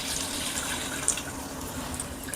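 Water poured into a pot on a stove for chicken pulao, roughly four glasses for two glasses of rice: a steady, even rush of splashing liquid, fairly close, with no talk.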